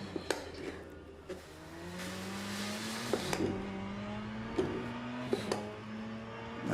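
A race car in the sim racing game Le Mans Ultimate brakes and downshifts into a corner. The engine note falls, then climbs again under acceleration, with sharp gear-change blips and ticks over a steady engine drone, heard with no talking.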